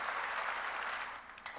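A church congregation breaks into steady, dense applause during a sermon, a continuous wash of clapping from many hands filling the room with no voices over it.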